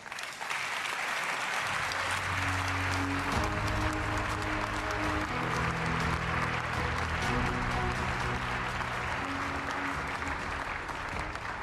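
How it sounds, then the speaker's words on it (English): Big round of applause from the congress audience of the European People's Party in Valencia as a speaker takes the stage, steady dense clapping throughout with music playing underneath. "I'd like to welcome, with a big round of applause, Mr. Manfred Weber."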